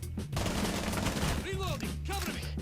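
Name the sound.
gunfire in video game Rainbow Six Siege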